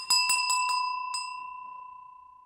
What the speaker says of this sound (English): You can bell the directions.